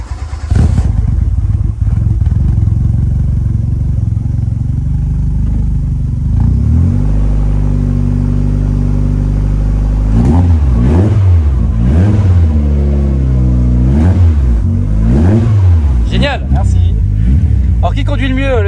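A Renault Super 5 Turbo GT with a swapped engine starts up, idles roughly, then revs hard in repeated rising bursts, loud and close, with people talking nearby.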